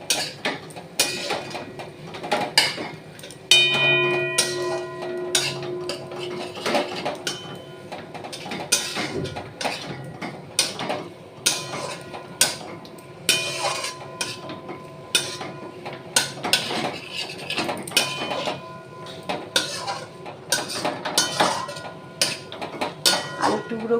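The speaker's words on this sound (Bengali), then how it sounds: "আলুর টুকরোগুলো ভালোভাবে কষিয়ে নিলাম এপিট ওপিট করে, যাতে আলুগুলোর মধ্যে মশলাগুলো মিশে যায়।" Fried potato pieces being stirred and turned with spices in a pan, a steady run of scraping and clinking of a utensil against the pan, close and fairly loud, continuing throughout with no talk.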